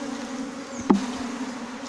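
Honey bees buzz around a beehive frame in a steady, close drone that hums continuously with one brief thump midway.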